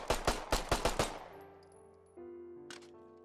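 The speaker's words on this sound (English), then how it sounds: "the insurgents and the militia squad leaders, the medics and the marksman roles all have a new pistol. It's called the TT-33 Tokarov." Five rapid TT-33 Tokarev pistol shots ring out in the military shooter game Squad, sharp and evenly spaced, each trailing a ringing echo before faint equipment clicks.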